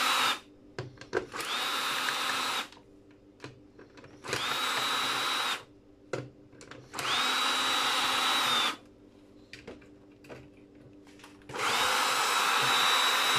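A power drill backing screws out of scrap electrical parts and motors, with four loud, close whirring bursts of a few seconds each, separated by clicks and handling noises.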